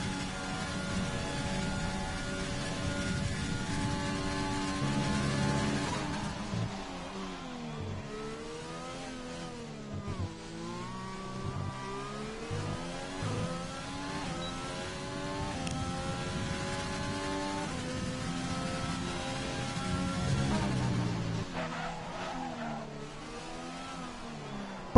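A race car engine on a flying lap in a racing video game screams continuously, its pitch climbing through each gear and dropping on shifts and braking, loud and unbroken throughout.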